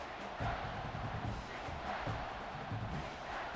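Stadium crowd roaring and cheering in a college football video game on a third down, a dense, continuous wash of noise with gentle swells.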